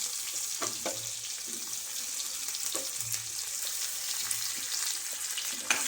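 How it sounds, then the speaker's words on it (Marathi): Curry leaves hiss and sizzle in hot oil as tempering for a buttermilk kadhi. The frying crackle is steady and close, with no talk over it. "अगोदर कढीपत्ता टाकूया. आ आ काय फोडणी बसली"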